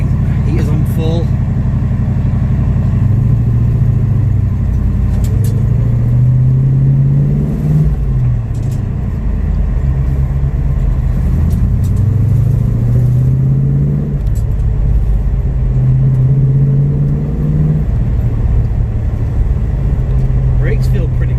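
A Ford Capri with a rebuilt V8 engine rumbles on a test drive, loud and close from inside the car, rising and falling through several gear changes while someone talks over it.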